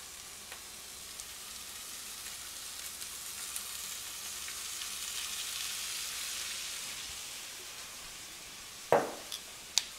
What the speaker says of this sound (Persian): قشنگ اجازه میدیم تا اول تر کامل اطرافش سرخ بشه